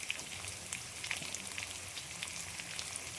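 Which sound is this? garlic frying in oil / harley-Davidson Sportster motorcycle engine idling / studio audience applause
garlic frying in oil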